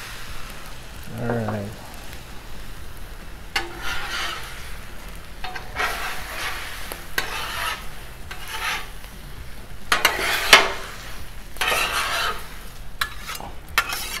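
Chorizo and egg cook on a hot 36-inch Blackstone griddle. Repeated metal spatula scrapes and chops ring out over a low, steady sizzle, close up, while someone speaks briefly.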